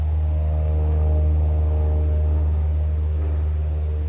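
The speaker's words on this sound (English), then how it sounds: "There's airplanes and cars and everything." Outdoor traffic and aircraft noise forms a steady, fairly loud low drone with a humming tonal quality that persists unbroken throughout, with no speech.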